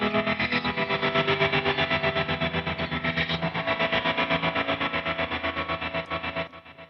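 An electric guitar sustains a thick, heavily processed chord through a pedalboard effects patch, with distortion and shimmering modulation pulsing steadily before it fades out at the end.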